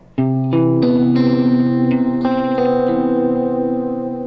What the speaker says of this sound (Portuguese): Quando a gente toca a nota Si e a nota Dó, ó, olha isso aqui, ó. Que som estranho.